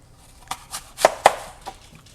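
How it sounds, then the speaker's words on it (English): Knife slicing a peeled apple away from the core, a few short crisp cuts and taps spaced unevenly, close and fairly quiet in an otherwise still room. "I'm just going to cut the apple away from the core"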